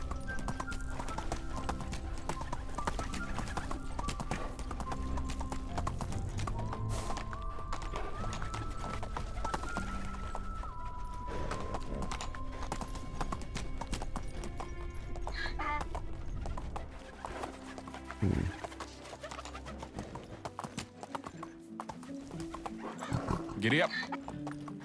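Horse hooves gallop in steady rapid clip-clop in the medieval video game Medieval Dynasty, with a whinny and chickens clucking in the background. Game music plays, someone talks throughout, and the hoofbeats thin out toward the end.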